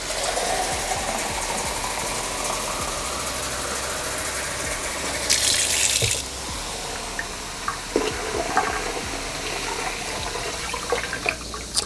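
Water poured gradually into a cartridge regeneration solution in a sink, a continuous splashing and gurgling with a short hissier burst midway and a few clinks.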